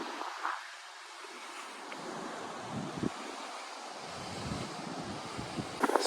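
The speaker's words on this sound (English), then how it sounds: "It's kind of very windy." Gusty wind buffets the microphone at Tinker Field, a historic old ballpark, rumbling low and rising and falling in waves with no voices.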